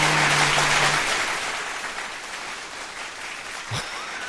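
A round of applause on a podcast, dense and loud at the start, then thinning and fading over a few seconds with no talk over it.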